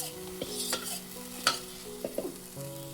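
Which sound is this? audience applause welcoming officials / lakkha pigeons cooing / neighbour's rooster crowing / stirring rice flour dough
stirring rice flour dough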